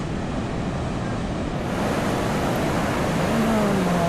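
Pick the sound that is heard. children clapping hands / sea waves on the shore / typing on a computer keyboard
sea waves on the shore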